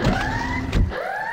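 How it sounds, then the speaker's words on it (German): Rising and falling electronic alarm wail in a Minecraft game, two sweeping tones repeating steadily and loud, with a brief burst of noise in the middle. "Hört ihr das? Der Alarm ist angegangen"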